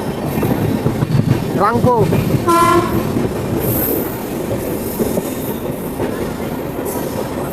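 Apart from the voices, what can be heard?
Kanchankanya Express train running on rails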